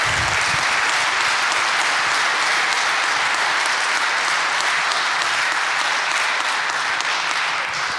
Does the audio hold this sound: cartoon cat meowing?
no